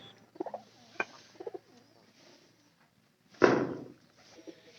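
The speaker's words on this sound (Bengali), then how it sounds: "এই কালারে জালালি কালারের কবুতর" Jalali-coloured pigeons give a few soft, close coos in short bursts, followed by a louder flurry that sounds like wing flaps, then quiet cooing again.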